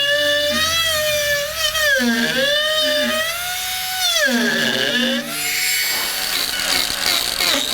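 A power carving tool with a small chainsaw-style blade whines steadily at high speed, pitch dipping and rising as it bites into green wood, loud and close throughout.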